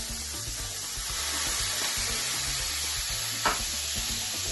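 Cognac is poured over small cuttlefish and vegetables sizzling in a pan. A loud, dense hiss of frying holds steady throughout, with a brief sharper spit partway through.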